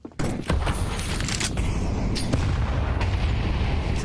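A grenade blast early in a Counter-Strike esports match, a sharp boom followed by sustained rumbling gunfire and scattered bursts, loud and dense throughout.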